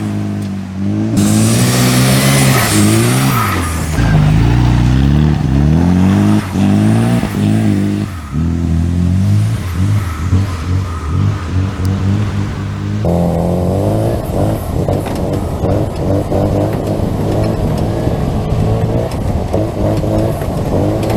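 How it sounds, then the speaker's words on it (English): Twin-turbo Volvo redblock engine in an off-road buggy revs hard and repeatedly, rising and falling through loud throttle bursts with turbo whoosh. It then settles into a busy, rough running note, close and dominant throughout. "Turbos sound awesome."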